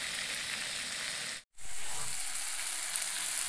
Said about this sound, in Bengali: এদিকে মাছটা ভাজা বসিয়ে দিয়েছি